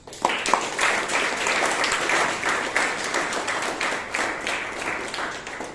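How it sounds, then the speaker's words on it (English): A room of attendees at a Bangalore Toastmasters meeting gives Madam Toastmaster a round of applause, starting abruptly and holding as a steady, fairly even clatter of clapping. "Please give her a huge round of applause."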